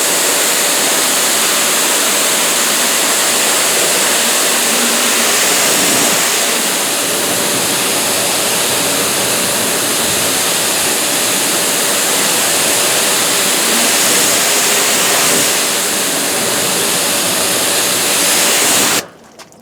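A steady spray of water hits a car panel coated with DPC Armor SiO2 sealant, a loud, continuous hiss that stays even for nearly twenty seconds before stopping abruptly.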